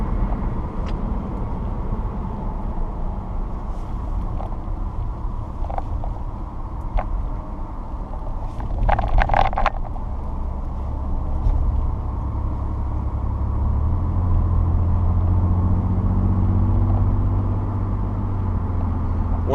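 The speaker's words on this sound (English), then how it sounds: "One thing I really enjoy about the truck is all the turbo noise you hear on the inside." Inside the cab of a 2017 Ford Raptor, a steady engine drone carries a brief burst of clicks and rattles partway through, then a rising whistle-like turbo tone swells over the last several seconds.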